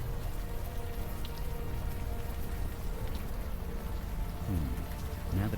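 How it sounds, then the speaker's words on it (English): Steady warm rain pours in the video game Unavowed, a dense, constant hiss of drops that holds evenly throughout, with a few faint tonal sweeps near the end. "the warm rain is coming down"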